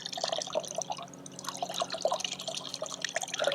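Water tipped off a fishing bait mix of casters, dripping and splashing in a quick irregular patter, close and alone.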